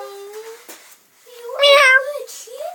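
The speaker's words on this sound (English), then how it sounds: "That's because he meow." A cat meows several times up close, drawn-out tonal cries with one louder, strained yowl in the middle, loud and clear with no talking over it.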